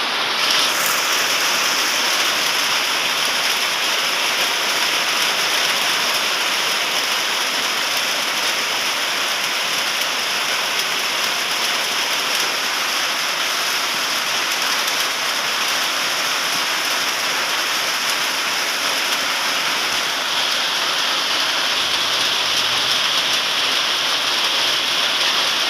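Steady rain falls throughout, a dense continuous hiss of drops on surfaces, loud and close, while a meal of stir-fried beef with holy basil waits nearby.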